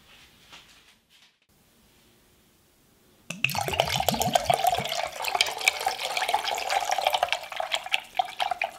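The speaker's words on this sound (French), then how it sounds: "je vais y incorporer un demi-verre de vinaigre" Homemade apple cider vinegar is poured into a jar of salted water for lacto-fermented vegetables. After quiet handling, a close, steady splashing gurgle of liquid runs continuously to the end, with no talking.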